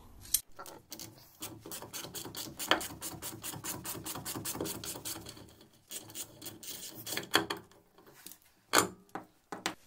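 Rapid clicking ratchet strokes from a hand puller tool removing the front wheel hub and bearing on a Mercedes-Benz W202, repeated in quick bursts with scraping metallic grinding, close by, pausing briefly midway before resuming.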